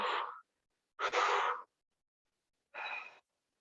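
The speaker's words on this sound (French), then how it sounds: "on inspire et on expire" Three breaths during a muscle-strengthening exercise class, each a breathy rush of air lasting under a second, separated by short silences, close and clear with no talk.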